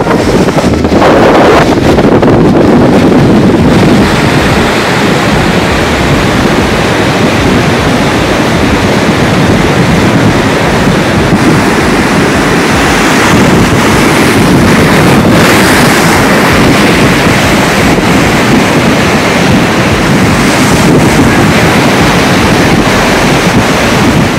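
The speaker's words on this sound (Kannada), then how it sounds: "ಅಲೆಗಳು ನೇರವಾಗಿ ರಸ್ತೆ ಹಾಗೂ ತಡೆಗೋಡೆಗಳಿಗೆ ಅಪ್ಪಳಿಸುವ ಮೂಲಕ" Stormy sea waves crashing against a coastal road and sea walls during days of heavy rain and gale, a loud continuous roar of surf with heavy wind buffeting the microphone, no talking.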